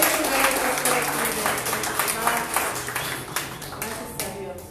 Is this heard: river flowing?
no